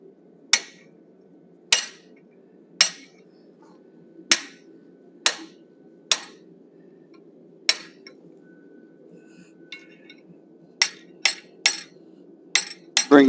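Hammer blows on a 1/2 inch fuller while forging a wolf head, about a dozen sharp metallic strikes with ringing tails, spaced unevenly and faster toward the end, close and loud over a low steady hum.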